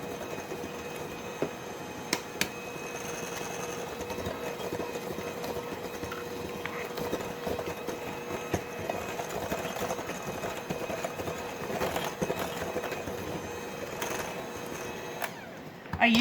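A small electric hand mixer whirs steadily for the whole stretch as it mashes bananas in a home kitchen, a continuous motor drone with faint rattles and clicks, up close and fairly loud, with no talking over it.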